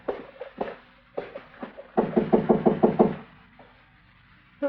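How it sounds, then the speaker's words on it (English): Knocking on a door as a radio drama sound effect in an old-time Dodge City Western: a few scattered raps, then a steady run of about six firm, close knocks, then quiet. "All right, go ahead and knock."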